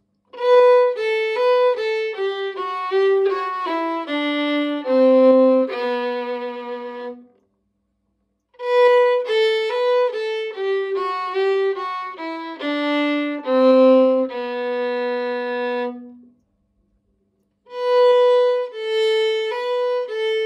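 An instrument plays the third phrase of Carolan's tune Princess Royal as a clear, plucked-sounding melody of bright ringing notes, heard alone in short runs separated by brief silences.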